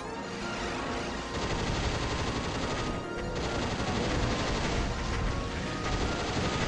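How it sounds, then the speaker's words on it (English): Assault rifle firing nonstop in Struggle, a Doom game mod, dense rapid gunfire with heavy impacts and explosions forming a loud, continuous barrage with no gaps. "So you gotta do this one just with the assault rifle."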